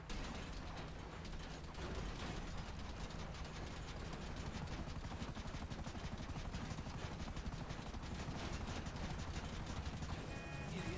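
A helicopter in the video game GTA 5 makes a dense, continuous mechanical whir with rapid rotor chopping and ratcheting texture that holds at a steady level throughout.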